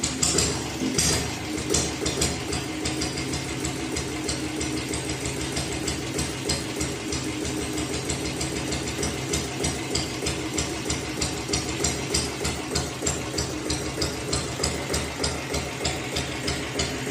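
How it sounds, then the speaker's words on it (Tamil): A Royal Enfield diesel Bullet motorcycle engine runs at a steady idle, its rapid, even thumping pulse close and continuous throughout, with a brief louder burst near the start. "வாங்க இப்போ வண்டியை ஸ்டார்ட் பண்ணி பார்க்கலாம் வாங்க"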